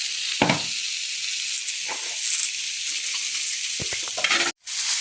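Bitter gourd frying in a pan gives a steady, close sizzle, broken by a few soft scraping stirs, then cuts off briefly near the end.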